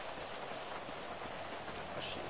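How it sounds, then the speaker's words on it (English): Steady rain hisses softly and evenly throughout, a faint, unbroken wash of falling drops with no other sounds. "But it's still raining."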